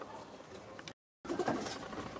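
Racing pigeons coo softly inside a breeder's loft, low murmuring calls with faint rustling and pattering, broken by a brief moment of silence.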